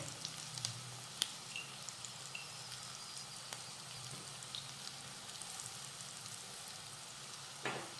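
Fried eggplant being mixed with salt in an oiled pan, giving a continuous close sizzle with occasional sharp spoon clicks and a soft squishy scrape near the end, no talk.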